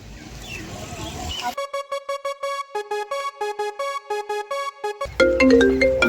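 A mobile phone ringtone sounds loudly in a Gujarati comedy skit, repeating a bright, melodic electronic pattern in steady pulses for about three and a half seconds between stretches of rustling background noise.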